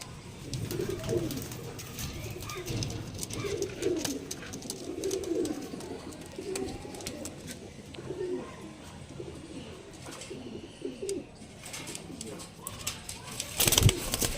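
Andhra pigeons coo in soft, repeated throaty phrases close by, overlapping in uneven bursts through a quiet space, with a short sharp clatter near the end.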